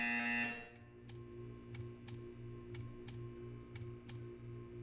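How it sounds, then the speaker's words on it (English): A buzzer in the Portal 2 video game sounds as a steady run of short, evenly spaced electronic pulses, about two per second. The pulses are moderately loud and follow a brief tone. "You will hear a buzzer."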